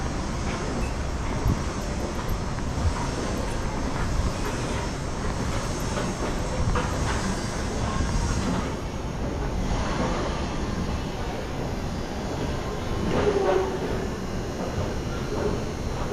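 Inside a Miami Metromover train riding the downtown inner loop: a continuous rumble and rattle of the car in motion, with soft clicks and squeals over a steady, fairly loud drone.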